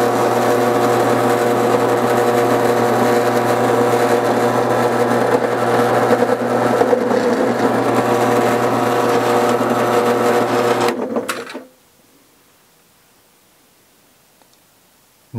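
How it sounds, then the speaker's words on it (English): A drill press crimping a 12 gauge shotgun shell loaded with a moose slug runs as a loud, steady mechanical whir with rattle for about eleven seconds, then cuts off abruptly into near silence. "I just adjusted the drill press to give us a little bit more depth of"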